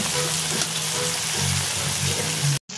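Tulingan fish frying in a hot pan, a steady bright sizzle with faint low bubbling and stirring underneath, close and even until it cuts off abruptly near the end.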